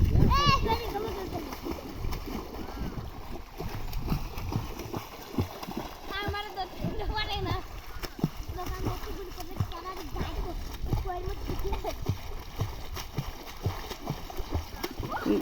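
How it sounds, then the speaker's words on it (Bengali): Swimmers splashing in open water, with intermittent splashes and churning water under near constant talk from adults and a child. "দেখছো বাবা, দেখছো ওই দাদারা কিরকম ভাবে সাঁতরায়, দেখছো?"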